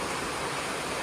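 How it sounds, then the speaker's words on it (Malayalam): Heavy rain falls as a dense, even, roaring hiss that stays close and constant without a break, and no voices are heard. "ഒന്ന് ചായയെ കുടിച്ച് വന്നപ്പോഴേ നല്ല മഴ കിട്ടി"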